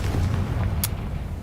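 A Confringo blasting spell explodes in Hogwarts Legacy with a deep, rumbling boom that carries through the whole moment, cut by one sharp bright crack near the middle.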